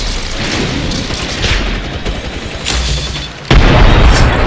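Video game gunfire rattles in dense bursts and booms, loud and close, forming a continuous barrage with a sharp heavier blast near the end.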